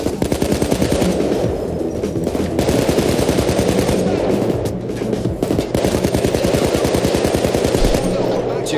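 Sustained rapid automatic gunfire fills a Payday 2 heist shootout against snipers, loud dense bursts with only brief lulls, while a voice speaks faintly beneath.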